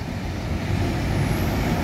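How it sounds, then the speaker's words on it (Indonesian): An intercity transport bus pulls in with a loud, close engine rumble and a rising high air-brake hiss toward the end. "Bus transport ya masuk."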